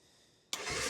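A Honda Fourtrax 300 ATV engine, just resealed, cranks and catches after a quiet moment, then settles into a loud, close idle.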